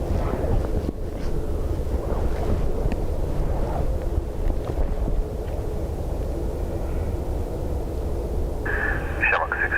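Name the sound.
strong wind blowing into microphone at Dublin Airport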